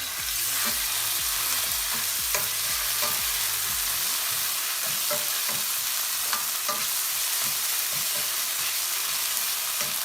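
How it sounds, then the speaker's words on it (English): Onion and ginger garlic paste fry in a pan for a vegetable jalfrezi, making a loud, continuous sizzle with frequent soft stirring scrapes throughout and no talking. "Here goes my onion. Here goes my ginger garlic paste."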